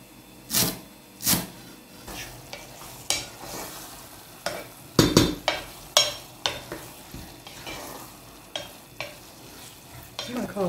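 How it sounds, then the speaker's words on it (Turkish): Onions fry in a pan and are stirred, giving a series of sharp, close scraping strokes, some quick pairs, over a faint sizzle, with no talking. "Ama soğanlar iyice kavrulması lazım dostlar."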